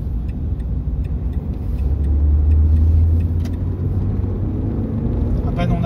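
A Renault Clio 2 phase 2 1.6 16V engine revving up under acceleration, a close steady low rumble that swells briefly and then settles, heard from inside the car.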